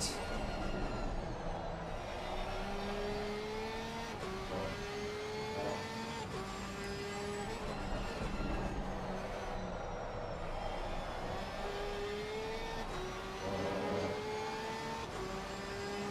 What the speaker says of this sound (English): Porsche obviously sounding magnificent.